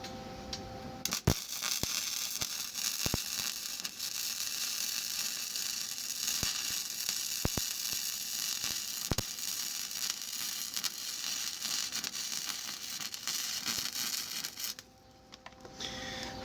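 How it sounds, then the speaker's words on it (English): Close, continuous sizzling crackle of welding during a forge repair, steady and loud with occasional sharp pops, stopping briefly near the start and again near the end. "get your weld going"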